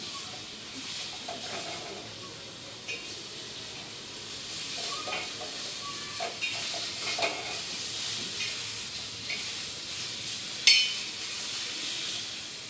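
Food roasting in a pan in a home kitchen while breakfast is cooked gives a steady close sizzle and hiss, with occasional scraping stirs throughout.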